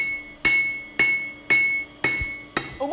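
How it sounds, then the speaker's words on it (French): A blacksmith strikes hot iron with a hammer at a forge, five loud, ringing metallic blows spaced about half a second apart, each decaying before the next, with no talk. "Prends ton marteau."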